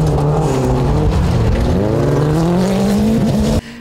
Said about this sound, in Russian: На трассу выезжают мощнейшие болиды с нелимитированными моторами, которые разгоняются до сотни за считанные мгновения и буквально летают по дороге